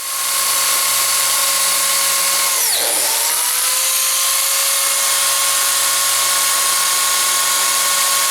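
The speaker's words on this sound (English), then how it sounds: "So I've got my biscuit joiner here." A biscuit joiner whines at a steady high pitch while cutting slots in wooden workbench parts, the motor dipping and bogging once as the blade plunges in, then recovering, loud and close with no talk.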